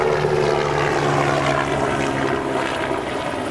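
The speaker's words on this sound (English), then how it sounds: "That was a helicopter flying over," Steady, broadband whirring drone of a helicopter overhead, fairly loud and constant for a few seconds with no voices.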